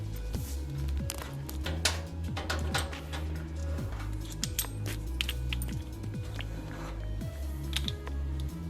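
A wrench ratchets out transport screws from the back of an Equator 9 kg front-load washing machine, making repeated close metallic clicks in a steady rhythm, with small clinks in between.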